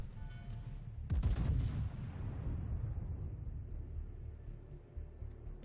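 Anti-aircraft guns on a warship in World of Warships open up against incoming carrier planes, a loud burst of rapid booming fire that fades into a long rumbling roar, with no talk over it.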